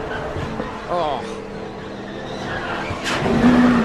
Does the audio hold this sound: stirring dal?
no